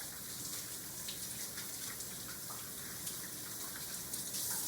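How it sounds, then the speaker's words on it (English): Soapy hands being rinsed under a running kitchen tap, giving a steady, close rush of flowing water with soft splashing and no speech. "stick them back under the water and wash all that soap off"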